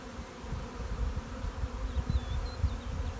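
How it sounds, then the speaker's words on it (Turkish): Honeybee colony swarming out of a hive outdoors, a dense low buzzing hum of many bees with individual insects passing close by, steady and fairly quiet throughout. "Bugün canlı canlı oğula çıkan arılarımıza şahit olduk"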